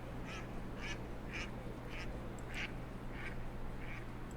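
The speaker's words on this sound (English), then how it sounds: "Potentially ducks." Ducks quack in a video game, a steady series of short, evenly spaced calls repeating about every half second over a constant low hum, with no talking.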